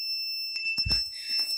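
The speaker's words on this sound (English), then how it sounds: "motion detector alarm." An Arduino PIR motion detector alarm buzzer sounds a steady, shrill electronic tone that holds for under two seconds, with a brief low thump and some rustling handling noise partway through.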